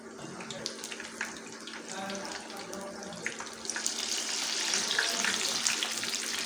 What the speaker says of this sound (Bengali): পাল্টে খুব সুন্দরভাবে বেগুনির মতো করে ভেজে নিতে হবে